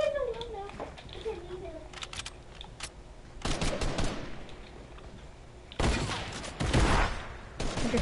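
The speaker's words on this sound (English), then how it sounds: "sniper shots" Sniper and hunting-rifle shots in a multiplayer video game, a few sharp loud bursts at irregular intervals, with players talking over the gunfire.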